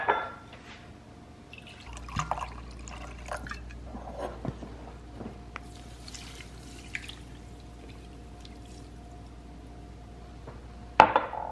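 Apple cider vinegar poured into a measuring cup in a home kitchen, a soft, faint trickle and glassy clinks over a low steady hum, with a louder knock near the end.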